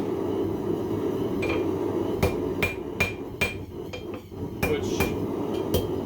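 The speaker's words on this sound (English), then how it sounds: "when I'm hammering it on the horn" Hot metal hammered on the horn of an anvil during night forging, with a series of sharp, ringing metallic strikes at an irregular pace over a steady background hum.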